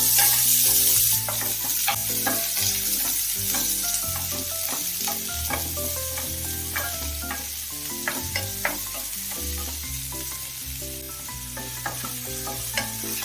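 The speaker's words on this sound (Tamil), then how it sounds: "பாருங்க ஃப்ரெண்ட்ஸ், ஆயில் நல்லா சூடாயிடுச்சு. இப்போ நம்ம இதுல ஆனியன் சேர்த்துக்கலாங்க. சேர்த்து இதை நல்லா வதக்கிக்கலாம்." Onion sautéing in hot oil for a chicken macaroni pasta, a steady crackling sizzle with frequent spatula scrapes and stirring knocks, close and fairly quiet.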